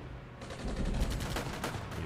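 Artillery in the wargame Armored Brigade booms out as a dense cluster of heavy, rolling blasts and rumbles, loud and continuous with no voices.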